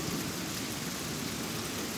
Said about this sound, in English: Rain is coming down pretty good.